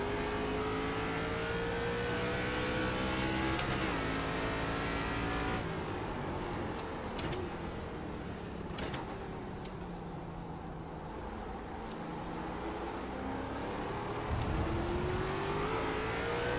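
An ARCA race car engine in iRacing on the Homestead road course roars continuously, with rising and falling pitch through upshifts and downshifts and sharp gear changes, loud and steady with no talking.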